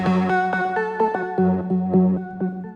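A synth line in a Melbourne Bounce drop plays with a low-pass filter cutting off the highs, giving a dull, rounded tone in short, bouncy repeated notes over a steady low bass, loud and close.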